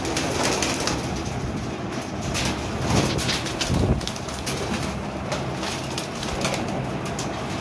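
Pigeons coo and shuffle close by with occasional wing flaps, set against a constant noisy background hum.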